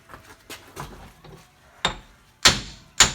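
Hammer strikes seating snap rings on a front axle U-joint, a few light taps followed by two sharp metallic whacks close by, no voices.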